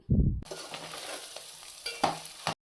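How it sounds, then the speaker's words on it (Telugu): A spoon stirs turmeric and salt through food in a hot frying pan, a close scraping shuffle over a light sizzle after a brief low thump at the start, with no voices. "వేసుకున్న తర్వాత బాగా తిప్పుకోవాలి."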